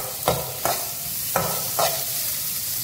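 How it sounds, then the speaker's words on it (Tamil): Crushed green chili, pepper and ginger sauté in a pan, a steady sizzle punctuated by four distinct spatula scrapes at irregular intervals, with no voices. "இதோட பச்சை வாசனை போகிற அளவுக்கு இதை நல்லா வதக்கிக்கலாம்"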